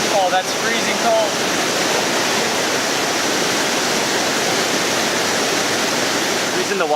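Steady roaring rush of Kuang Si waterfall near Luang Prabang, loud and close, continuous throughout with a few faint high chirps near the start.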